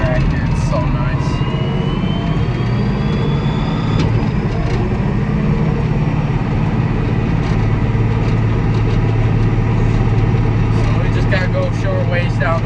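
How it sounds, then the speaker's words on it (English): A power shift tractor engine runs steadily with a loud, continuous low drone and whine throughout, heard from inside the cab while driving along a road between fields being disced. "This is a power shift tractor"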